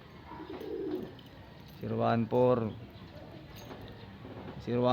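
Racing pigeons coo in a couple of short, throaty bursts over soft background noise, with another brief coo starting at the end.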